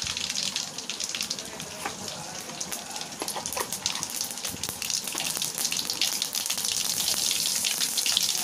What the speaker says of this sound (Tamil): இப்போ கடாயை வச்சு எண்ணெய் ஊற்றியாச்சு. எண்ணெய் காஞ்சதுக்கப்புறம் அதில் வந்து கடுகு சேர்த்துக்கலாம்.